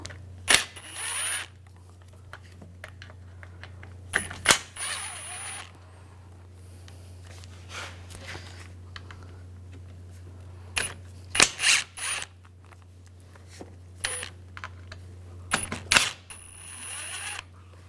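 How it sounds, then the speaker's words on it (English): A socket wrench with a T30 bit ratchets out the radiator screws on a 2004-2009 Audi A4. Short bursts of close, metallic ratcheting clicks come repeatedly over a steady low hum. "Using a T30 socket, I'll take these screws out."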